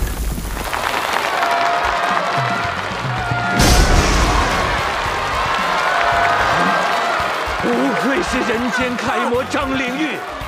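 Warm applause for the winner Zhang Lingyu in a martial contest, steady clapping with crowd noise running throughout, a loud thud partway through, and voices and music mixed in underneath.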